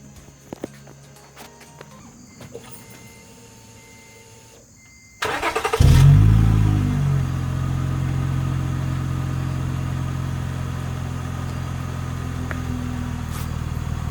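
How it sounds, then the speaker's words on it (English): A 2004 Acura TL with its rear and mid mufflers removed cranks to life partway through, then settles into a loud, steady, low and throaty idle rumble with no voices over it. "Off the bat, we have a noticeably lower idle tone. Still, it's got a throaty note to it"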